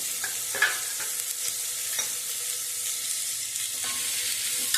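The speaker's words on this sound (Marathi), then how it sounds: "आता ह्यामध्ये मी चिरून ठेवलेला भोपळा घालणार आहे." Finely diced red pumpkin sautéing in a pan over a medium flame, a soft steady sizzle punctuated by occasional spatula scrapes, close and fairly quiet.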